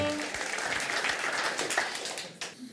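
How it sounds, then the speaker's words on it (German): A cabaret audience in Franconia claps in a brief, moderately loud burst of applause, with a voice briefly audible near the start and the clapping thinning at the close. "Großer Applaus natürlich für Bembers aus Nürnberg."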